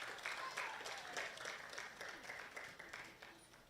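Applause from the audience at a prematurity awareness summit, a faint, even spread of many hands clapping that slowly tapers off toward the end.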